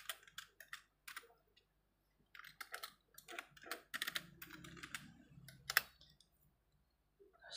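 Someone types commands on a computer keyboard while configuring network routing in a command-line interface. Quiet, uneven bursts of close key clicks are separated by short pauses, with no voices.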